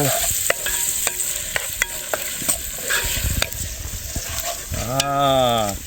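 Spices frying in hot oil at a riverside campsite in a forest, with a spoon scraping and stirring the pan in sharp repeated strokes over steady sizzling, close and fairly loud.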